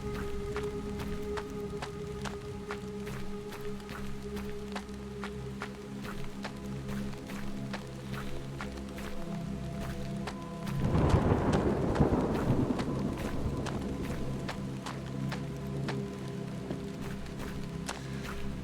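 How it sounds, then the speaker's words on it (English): Steady rain with a swelling rumble of thunder near the middle, set in the horror video game Hollowbody, with constant music-like tones running underneath. "the thing with the raindrop effect"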